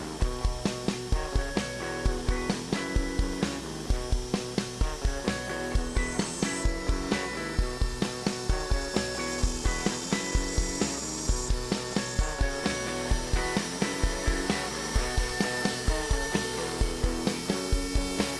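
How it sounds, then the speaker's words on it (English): An X-Carve CNC machine routes a logo and lettering into a solid wood sign, a steady machining drone broken by regular rhythmic pulses as the bit works, loud and close with no talking. "we loaded up the X-Carve and set it to carving the logo and the lettering"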